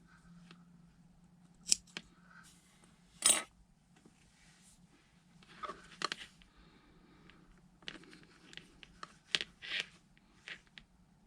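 Scissors snipping crochet yarn in a quiet room: several short, sharp cuts spaced apart, close and clear, with faint handling rustles between them.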